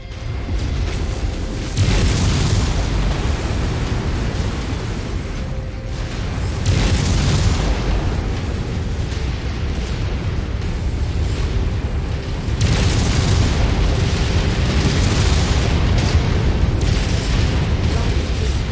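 Heavy explosions rumble and boom through a MechWarrior 5: Mercenaries battle as an enemy mech is destroyed, loud, continuous low-frequency blasts swelling in waves over the whole stretch with no talk.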